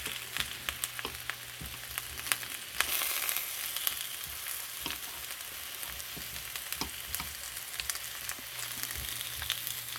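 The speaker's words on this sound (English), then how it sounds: "I'm just going to turn these so they cook on the other side" Steaks brown in a hot pan while being cooked for steak moutarde, producing a continuous soft sizzle with scattered pops and crackles and occasional sharper clatters as the meat is handled, all without talk.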